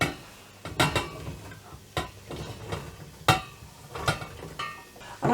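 A metal lid set onto a cooking pan holding carrots and leek, giving sharp clinks and clatters spaced irregularly at close range in a quiet kitchen.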